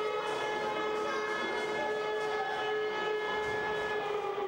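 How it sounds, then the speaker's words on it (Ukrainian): A civil defense siren sounds during a school civil-protection drill, a loud sustained wail that holds steady throughout with no voices. "У школі звучить сирена."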